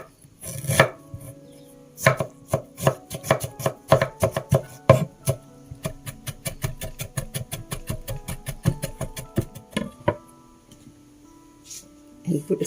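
Ginger chopped with a knife on a board: a rapid run of sharp, close knocks in uneven bursts, some quick volleys and brief pauses, with no talk.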